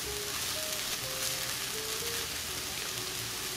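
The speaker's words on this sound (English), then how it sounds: "continue to cook our soy crumbles until they're a little bit crispy" Soy crumbles fry in a pan with a continuous dense crackling sizzle, steady and fairly close, alone without any speech.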